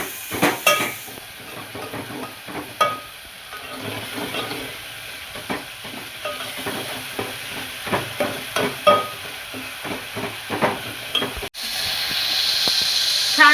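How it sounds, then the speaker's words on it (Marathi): Tomatoes and dal tempering sizzle steadily in hot oil with a continuous frying hiss, broken by a few soft stirring clatters of a spoon against the pan, close up with no talking. "असं छान असं आपला डाळीचा याचा फोडणीचा आवाज पण छान असं चुरचुर येतोय"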